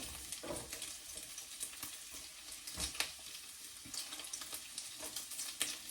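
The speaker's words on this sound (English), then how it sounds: "And don't burn the bacon, y'all, because that's gonna mess it up." Bacon sizzles and crackles steadily in a hot pan while being fried, with faint stirring or shifting sounds, and there is no talking over the sizzle.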